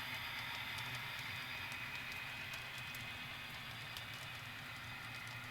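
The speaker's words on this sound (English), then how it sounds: "This is a Madison, Wisconsin to Milwaukee freight." Model railroad freight train running on a Madison, Wisconsin to Milwaukee layout, a steady low rumble of rolling wheels with faint high clicks, quiet and continuous throughout, no talking.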